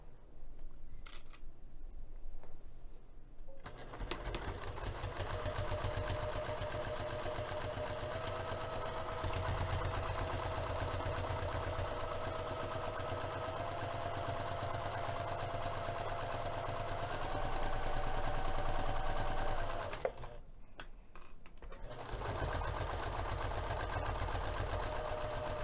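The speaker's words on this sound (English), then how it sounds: "I'm going to stitch this flap to my exterior using 1/4 inch seam" A sewing machine runs steadily for a long stretch, stitching a messenger bag flap to the exterior panel with a quarter-inch seam, then stops briefly and starts again, a continuous whirring hum with no talk.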